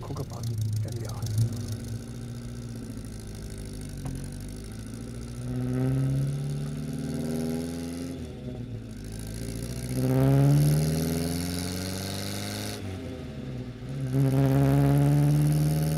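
A 1975 Opel Kadett C with a 1-liter engine runs close by, idling and then revving up several times in rising, falling sweeps between steady idle.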